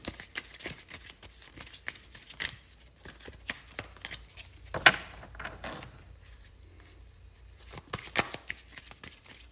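A deck of tarot cards is shuffled up close in quick riffling bursts of crisp flutters and taps, with a quieter pause in the middle before another run of shuffling.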